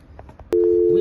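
A train station help call point at Lizy-sur-Ourcq gives off a steady electronic telephone tone that starts abruptly halfway through and holds loud and unbroken after a few faint background thumps.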